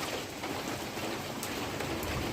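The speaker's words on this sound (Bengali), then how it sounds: "বৃষ্টি পড়ছে" Steady rain falling, a dense continuous hiss of drops with a few brighter patters, close and fairly even throughout.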